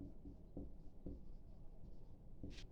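Marker or chalk writing on a classroom board during a trigonometry lesson, soft scratchy strokes with a few sharper taps, steady and fairly close, with no talking over it.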